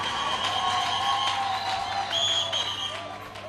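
Church congregation loudly acclaiming and cheering the Lord during a French-language worship service, a sustained crowd roar of shouts and clapping with a few higher cries rising above it, fading slightly toward the end.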